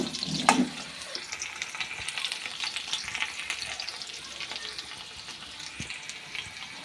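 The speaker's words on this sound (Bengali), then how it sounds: "আলুটা আমার ভাজা হয়ে গেছে লাল করে, এরকম লাল করে আলুটা ভেজে" Browned potatoes fry in oil for a rohu fish curry with a constant hissing sizzle, a sharp metallic clank near the start and occasional soft stirring knocks.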